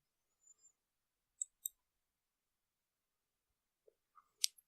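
Several sharp computer mouse clicks, sparse and separate, sound during setup of a CentOS 7 virtual machine, two close together early on and a few more near the end, quiet and close with near silence between.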